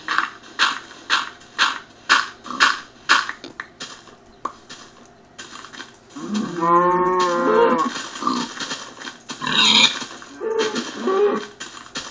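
A cow in a video game moos loudly once, long and low, amid a steady series of rhythmic clacking knocks.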